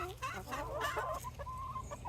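A hen clucks in short, close, busy bursts, a few low throaty notes running together with soft background noise.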